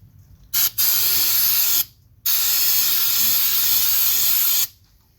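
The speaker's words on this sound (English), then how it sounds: "give it a light blast of air" Compressed air blown in light blasts onto a part during hydraulic maintenance work, heard as three loud, close hissing bursts: two short ones followed by a longer steady one, alone with no talk.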